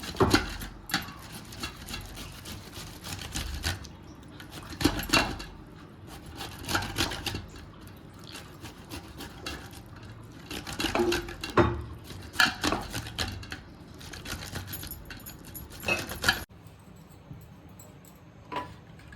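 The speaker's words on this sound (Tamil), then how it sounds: "மாங்காய் தோல் எடுத்தாச்சுங்க. நம்ம துருவி எடுத்துக்கலாம்." Peeled raw mango rubbed against a grater in a home kitchen for a sweet mango vadai, giving repeated scraping strokes with irregular rhythm, close and moderately loud, with no talking.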